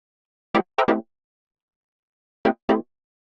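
Minimal house synth chord stabs treated with chorus and vibrato ring out as five short, loud staccato hits, three in quick succession, then a pause, then two more, with silence between them.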